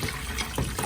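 Meat juice is poured from a container into a cooking pot for carne en su jugo, a close, continuous gurgling splash lasting under a second.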